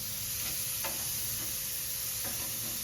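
Pieces of chicken sizzle on a sidekick grill, giving a steady, even frying hiss with a few faint ticks and clinks on top.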